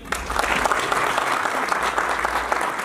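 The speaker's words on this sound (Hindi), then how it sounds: "जोरदार तालियां इनके लिए" Audience of about sixty people bursts into loud, steady clapping at a motivational talk, a dense burst of applause lasting a few seconds with no pause.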